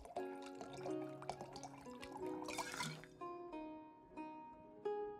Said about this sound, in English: let's pour him a drink